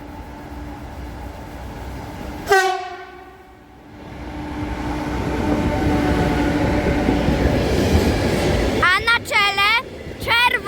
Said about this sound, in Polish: Omawiamy przelot składu towarowego.